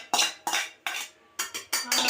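A metal pan and spoon clatter as sautéed vallarai greens are tipped into cooked lentils for sambar, giving about six short, bright clinks and scrapes in an uneven rhythm, close and fairly clear.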